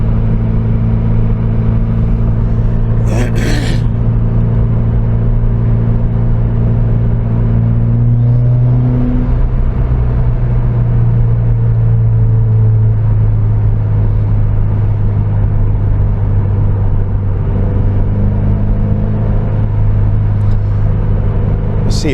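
A car on stock suspension drives a long road with straight sections, its engine and tyre rumble droning steadily throughout, with a brief sharp knock early on and slight shifts in engine pitch.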